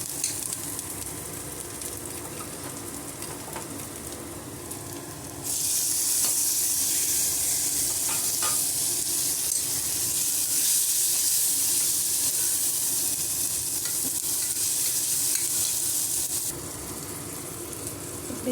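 Tomato frying and being stirred in a pan for a carrot and beans curry, with a loud hiss that swells midway and then settles back, plus the scrape of stirring.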